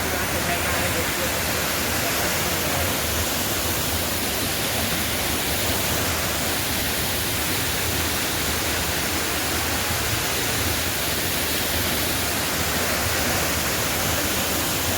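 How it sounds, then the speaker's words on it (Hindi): A waterfall roars in a dense, unbroken wash of broadband noise, loud and constant throughout with no other sounds standing out. "टेस्टी बहान का झरना है"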